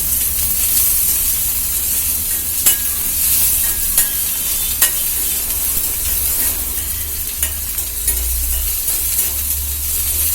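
Citron peel sautés in sesame oil for a Tamil chutney, giving a continuous close sizzle with occasional sharp clicks and scrapes of stirring, no voices.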